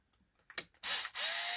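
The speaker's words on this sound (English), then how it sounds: "Looks like I got to go after these two screws." A few brief clicks and ticks come from working on a screw on a Kyosho Mad Van RC car, followed by two short bursts of a small power screwdriver whirring close up.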